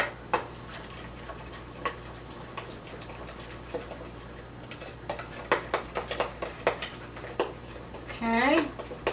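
A wooden spoon scrapes and knocks through cookie batter in a bowl, with irregular soft clicks and taps scattered under a voice in a kitchen.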